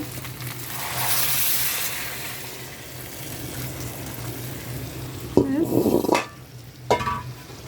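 Water is poured into a pan of catfish frying with onions, a soft sizzle and faint hum give way to a sudden louder splash and bubbling hiss, followed by a brief clatter.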